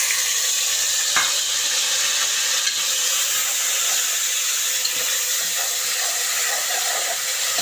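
Tomatoes sizzle and fry in a pan with onions for peas pulao, a steady loud hiss, with a spoon stirring now and then and a few faint scrapes and taps.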